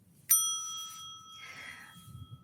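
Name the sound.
bell ding sound cue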